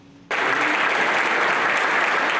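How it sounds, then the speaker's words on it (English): A large crowd bursts into loud, sustained applause during a standing ovation for student body president Houston Summers, starting abruptly after a brief quiet moment and holding steady throughout. "Applause and a standing ovation."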